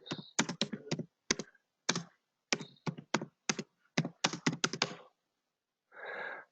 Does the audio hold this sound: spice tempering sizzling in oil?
no